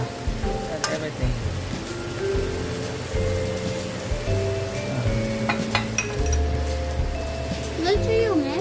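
Pork binagoongan with shrimp paste fries and is stirred in a pan. A steady, dense sizzle runs throughout with scraping stirs, and a voice talks over the cooking.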